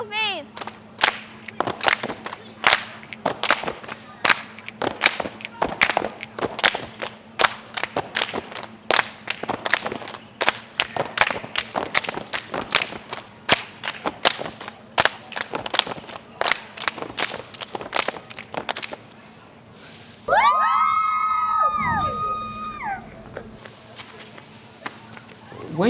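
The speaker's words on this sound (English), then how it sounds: "Let me hear you stomp your feet." Students at a Nigerian secondary school stomping feet and clapping in a rhythmic group beat, sharp repeated hits for about twenty seconds, then a burst of shouting voices.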